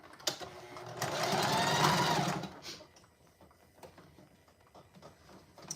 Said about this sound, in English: And then I'm just gonna sew across here and do that on both sides.